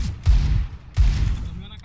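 Two sharp Desert Eagle pistol shots in a Counter-Strike match, each a loud punchy blast with a short decaying tail, spaced under a second apart, with game sounds around them.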